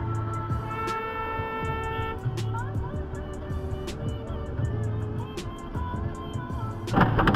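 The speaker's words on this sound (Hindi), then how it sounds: "ओरा के ड्राइवर ने ओवरटेक करने से जस्ट पहले हॉर्न बजाया है" On an Indian road, the driver of an Aura sounds the car horn just before overtaking a container truck. Sustained tonal honks sit over a constant rumble of traffic and engine noise.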